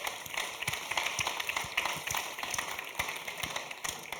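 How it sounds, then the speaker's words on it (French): An audience at a municipal digital-transition conference applauds the panelists after a debate, a steady spread of many hands clapping, heard faintly and somewhat distant in a large hall. "Je vous invite à applaudir nos panélistes pour ce beau débat."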